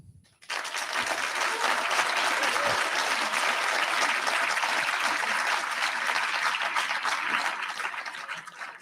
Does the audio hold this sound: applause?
yes